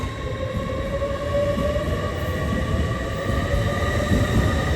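A TransPennine Express train, unit 802213, departs Darlington station as a steady, loud rumble of rolling wheels under a sustained whining drone. The whine holds its tones and the sound stays constant, with no speech.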